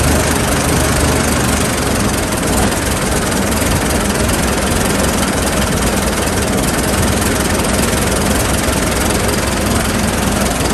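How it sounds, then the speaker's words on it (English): A 1915 Dodge Brothers Touring car engine with a repaired carburettor idles loudly up close, a dense continuous rumble with no breaks or voices. "Idling really nice here."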